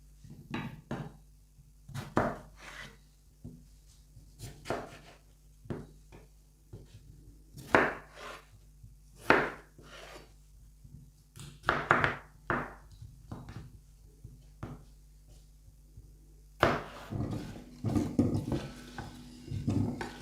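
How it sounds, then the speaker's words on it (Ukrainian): Irregular knife chops on a cutting board as potatoes are cut into pieces, sharp thuds scattered over twenty seconds with brief pauses, close and moderately loud. "зараз буду нарізати на шматочки"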